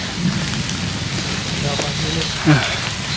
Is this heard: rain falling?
yes